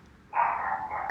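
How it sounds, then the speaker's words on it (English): A small dog lets out one drawn-out bark or yelp, close and fairly loud, with no talking around it. "See, that's my little dog."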